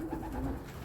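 Racing pigeons give a brief, soft, throaty coo close by, one rolling call against quiet background noise.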